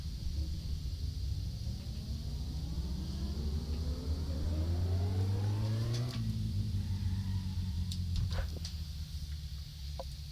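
Engine of a Satsuma car in the My Summer Car video game, reversing out of a garage: a steady close rumble whose pitch climbs to a peak, drops off sharply, then idles on with a few brief clicks.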